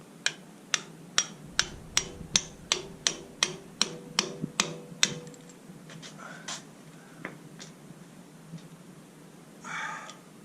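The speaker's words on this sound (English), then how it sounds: "Get yourself a hammer there. Start hitting it." A hammer strikes metal about a dozen times in an even, quick rhythm of sharp metallic taps while rebuilding a Jeep Wrangler 4.0 engine, then a few scattered knocks and a brief rustle follow.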